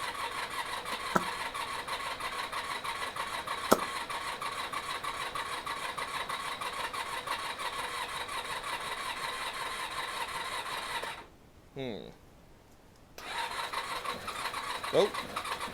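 Honda VFR400 NC30 motorcycle engine, just reassembled, running at a steady mid-level drone with a couple of sharp clicks. The engine cuts out briefly near the end, then picks up again.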